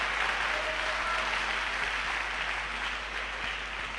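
A church congregation applauds in praise of the Lord, a steady, dense patter of many hands clapping for several seconds, fairly even in loudness with a low background hum.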